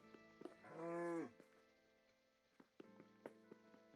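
A Minecraft cow lets out one drawn-out, fairly close moo, followed by faint ticking and tapping game sounds with no talk.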